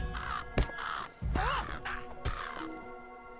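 Crows caw in the video game The Lord of the Rings Online, several loud harsh calls in quick succession close by, with a few thumps mixed in.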